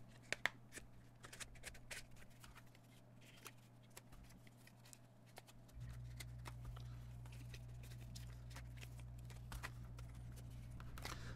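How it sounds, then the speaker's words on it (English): Cards being slid one by one into a Google Pixel 9 Pro XL wallet case, heard as faint, close clicks and soft scraping over a steady low hum that grows louder partway through. "if you were to load up this thing with every card you could, it will still easily close"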